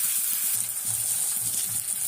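Garlic and native small onions fry in hot oil that already holds mustard seeds, fenugreek and vadagam, producing a continuous soft hissing sizzle, close and even, with faint low stirring.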